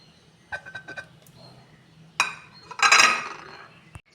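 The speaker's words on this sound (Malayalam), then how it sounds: "ഇത് എല്ലാം ഒരു ചട്ടിയിലേക്ക് നമുക്ക് ഇട്ട് കൊടുക്കാം" Shallots, ginger, split bullet chillies and curry leaves drop into a clay pot: a few light clinks and clatters, then a louder rattling tumble near the end and a single sharp tap.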